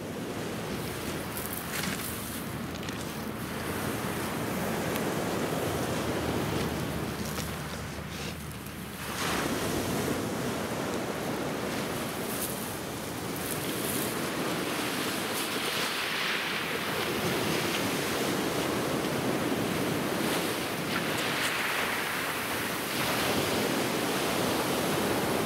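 On a beach where sea turtles nest, ocean waves wash in with a steady roar and a slow rise and fall of surf, mixed with wind noise on the microphone.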